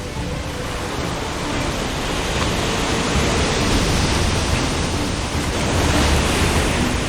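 Heavy sea waves crash and surge around seaweed harvesters on a rocky island shore, a loud, unbroken roar of surf with no voices.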